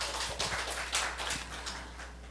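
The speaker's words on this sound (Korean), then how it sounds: "우리 하나님께 박수 올려드립니다" A church congregation at a Korean morning worship service in Seoul claps together. The applause is a brisk, uneven patter of many hands, fairly soft and heard alone.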